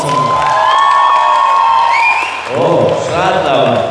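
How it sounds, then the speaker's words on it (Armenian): A live comedy-show audience claps and cheers loudly, with scattered shouts and whoops rising out of the dense crowd noise. "Եկեք հիմա մի հատ փորձ անենք, տենանք որ կողմն է լավ ծափեր տալի"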